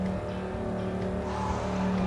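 An off-road vehicle in a video game labors in low gear through slippery mud, a steady strained engine hum with sustained tonal whine and faint wheel-spin texture throughout, no talking.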